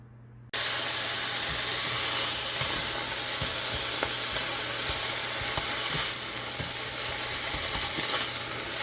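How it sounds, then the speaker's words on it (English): Ground turkey frying in a skillet for a one-pan turkey vegetable dish, with a loud, continuous sizzle that starts abruptly and holds steady, broken by faint pops and crackles. "I'm going to let this fry up, and we'll show you what that looks like."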